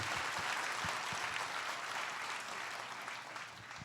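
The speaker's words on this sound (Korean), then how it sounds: "이 정도 박수 갖고 안 될 것 같은데요." Sustained clapping from a church congregation at a Sunday service, even and continuous throughout, gradually easing slightly toward the end.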